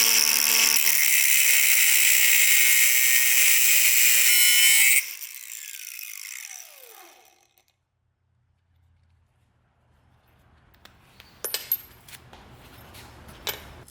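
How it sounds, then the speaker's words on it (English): An angle grinder cuts through aluminum with a loud, sustained, close high-pitched shriek. It stops abruptly and the disc winds down with a falling whine, followed by quiet clinks and handling noises. "So let's do aluminum with the grinder."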